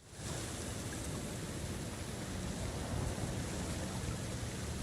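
Waterfall in Star Wars Jedi: Survivor, a dense continuous rushing roar of falling water, steady and moderately loud with no voices.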